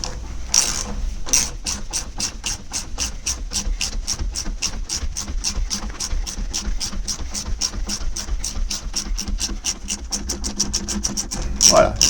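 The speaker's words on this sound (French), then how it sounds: "je vais desserrer de nouveau la vis inférieure de l'amortisseur" A ratchet wrench loosening the lower shock absorber bolt on a Renault Clio 3 during a rear suspension spring change, with rapid, loud, evenly spaced clicks running steadily for about twelve seconds, close up.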